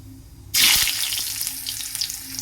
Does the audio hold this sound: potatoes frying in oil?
yes